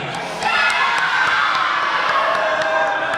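A wrestling event crowd at RWA Fury 2020 swells into loud cheering and shouting, with whoops and thumps, sustained and dense across the arena.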